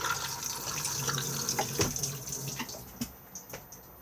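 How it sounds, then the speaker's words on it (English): A Thetford cassette toilet in a Benimar Tessoro T482 motorhome flushes, a close rush of running water into the bowl that tapers off into a few drips and small knocks. "And then push to flush."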